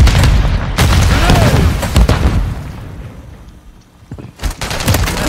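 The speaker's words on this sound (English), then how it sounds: "Grenade!" Chaotic gunfire and booming explosions from a Call of Duty Modern Warfare 3 hardcore Control match, loud and dense, easing briefly before another sharp blast and renewed shooting.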